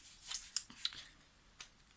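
Tightly sealed Korean drink packaging being pried open: a few sharp crinkly snips and rustles, close and fairly quiet, followed by a brief pause and one last crackle.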